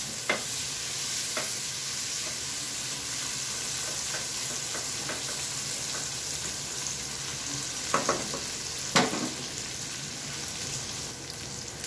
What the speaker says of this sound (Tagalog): Lutuin natin yung kamatis hanggang sa lumambot na ng gusto.